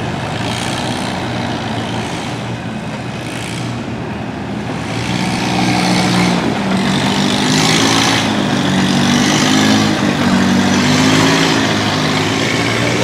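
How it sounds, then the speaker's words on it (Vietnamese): A sea fishing boat's engine rumbles steadily as it passes, a loud, continuous low drone that swells halfway through and stays full, with no voices. "Cái chiếc ghe biển nó đi ngược lại nha các bạn"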